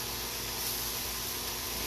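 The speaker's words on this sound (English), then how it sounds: "I'm going to kick on this fan." A continuous, even whooshing hiss of a kitchen fan running steadily, fairly quiet and unchanging throughout.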